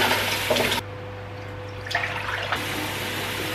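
A flower vase filled two-thirds with tap water: a loud, steady rush from the faucet over a constant low hum, briefly cut back in the middle and then running strongly again.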